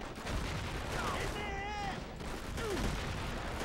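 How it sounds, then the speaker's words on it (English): Gunfire in the World War II shooter Call of Duty: World at War on the Mount Tapochau battlefield, a steady dense clatter of distant shots and battle noise running throughout, with a few whistling tones mixed in. "what are you guys shooting at?"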